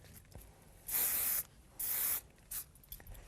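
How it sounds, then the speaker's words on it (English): Hairspray hisses from a can in three bursts: two long, steady sprays and then a quick short puff, close by. "you're going to want to add a little bit of spray"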